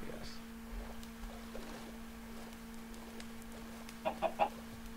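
A chicken clucks in a village-building video game, a few short soft clucks heard faintly over quiet background game ambience near the end.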